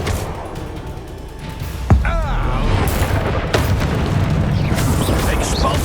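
A Bombarda spell goes off in Hogwarts Legacy: a sharp, loud magical blast near the two-second mark, followed by a sustained roaring rumble with sweeping tonal whooshes, amid busy combat noise.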